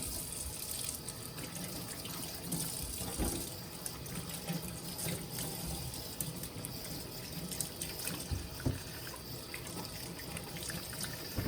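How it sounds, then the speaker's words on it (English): Tap water runs steadily into a sink as vegetables for gazpacho are rinsed under the stream, a continuous close splashing hiss with no talk. "you still want to rinse off the outer layer"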